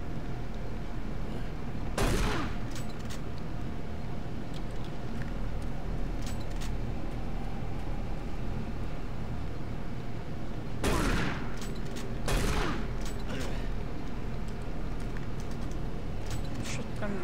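Shotgun blasts in the game Doom 3, three sharp booming shots, one alone and then two close together, over a steady low hum of game ambience.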